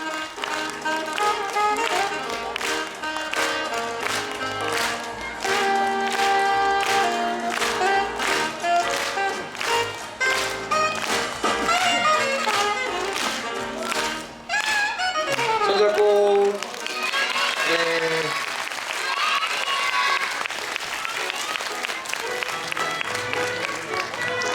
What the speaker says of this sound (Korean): 자, 박수 크게 쳐주세요.